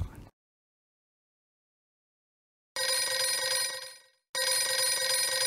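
Telephone ringing on an outgoing call placed during an Ascension Day worship broadcast: a brief blip, then silence, then two loud, sustained electronic ring bursts separated by a short gap.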